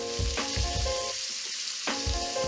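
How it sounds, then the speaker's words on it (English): Steaks sizzle loudly in a cast iron pan while being basted with butter, a constant frying hiss broken by repeated spoon scrapes and clinks against the pan. "get a nice big spoon and start basting over your steaks"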